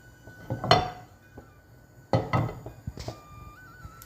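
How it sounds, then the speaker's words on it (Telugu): A tablespoon of ghee goes into a pan for a sweet: metallic clinks of a spoon against the cookware, two clear bursts with quieter knocks between them, close by and with no talking. "ప్యాన్లోకి నెయ్యి వేసుకుందామండి వన్ టేబుల్ స్పూన్ నెయ్యి వేసుకుందాము"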